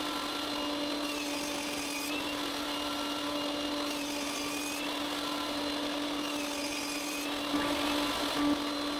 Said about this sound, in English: I start by cutting 2 grooves in each frame piece